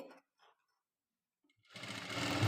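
Domestic sewing machine running steadily as it stitches a blouse front, starting after brief murmured speech and a pause, then a continuous close mechanical whir lasting to the end.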